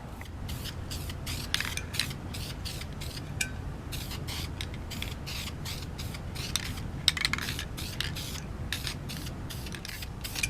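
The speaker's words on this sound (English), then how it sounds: "I'll seal it with primer sealer first" Short bursts of spray paint hiss repeatedly as primer sealer is applied to a motorcycle rear sprocket part during a Ninja restoration, the quick spurts coming in an irregular rhythm over a low background hum.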